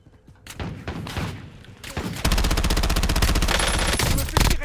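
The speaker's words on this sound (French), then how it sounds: "Je me fais tirer dessus." Enemy gunfire aimed at the player in a Warzone match: scattered loud shots build into a sustained rapid machine-gun burst, close and heavy, ending with a few sharp bangs.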